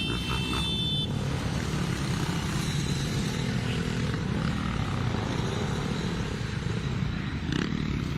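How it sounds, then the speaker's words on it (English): A dozen or so motorcycles, ATVs and e-bikes roar past on a city street outside City Hall, a dense continuous engine drone that stays loud and steady throughout, with a brief high whine near the start. "They're on ATVs, many e-bikes there, motorcycles as well, and they'll zip through block after block."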